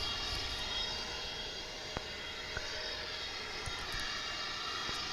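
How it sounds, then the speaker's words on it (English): A passenger airplane inbound from Austin passes over DFW International Airport, a steady distant engine roar with broadband rumble holding level throughout, plus a few faint sharp ticks, with no talking. "Here comes that flight from Austin."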